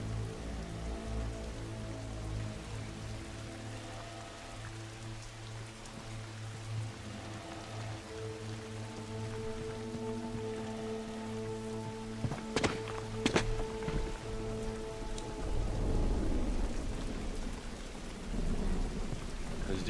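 Steady rain falls in The Last of Us video game, a constant close patter under low game tones, with a couple of sharp cracks and a louder rumbling swell near the end.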